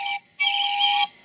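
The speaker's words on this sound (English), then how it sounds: "As you can hear, the tone of the whistle is a good bit different now as the steam approaches working pressure." The steam whistle of a freelance live steam locomotive, nearing working pressure, gives two clear, loud whistle blasts, the first short and the second longer and steady.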